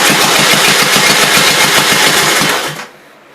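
A Gravely L tractor engine cranks on an electric start cart with a fast, even mechanical chatter, loud and close, then cuts off abruptly to near silence near the end.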